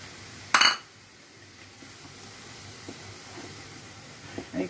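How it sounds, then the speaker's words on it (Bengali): A spoon stirs sweet zarda rice mixed with yogurt and sugar in a pot, opening with a sharp metallic clink and scrape, then settling into quiet soft stirring with a few faint taps near the end. "একটু নাড়িয়ে দিই ভালো করে, চিনিটাও গলে যাবে।"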